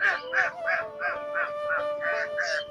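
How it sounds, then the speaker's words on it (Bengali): A flock of ducks on the water at a river ghat, calling in a quick, regular series of nasal honks, about eight calls in under three seconds, fairly close and clear. "অনেকগুলো হাঁস"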